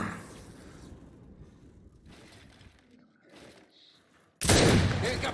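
Gunfire in the multiplayer shooter Gears 5, a loud burst of rapid shots erupting suddenly near the end after quieter mechanical rattles and muffled game noise, with a voice speaking earlier.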